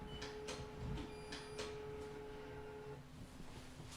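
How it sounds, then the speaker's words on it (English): A printer running a test print, set off by a cat, with faint mechanical clicks and slides and a thin steady whine, quiet and close with no talk. "my cat sends my printer into a test print or something"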